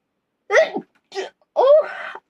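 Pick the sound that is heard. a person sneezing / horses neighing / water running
a person sneezing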